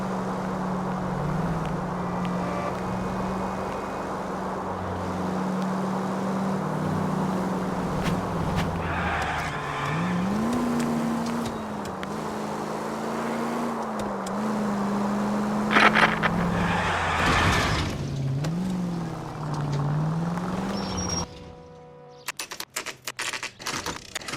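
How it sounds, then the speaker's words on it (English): A car in the video game L.A. Noire idles steadily with a low engine drone, its pitch rising and falling as it pulls out of a drive, then cuts out near the end amid scattered clicks. "That's the car, Cole. Just pulling out of the drive."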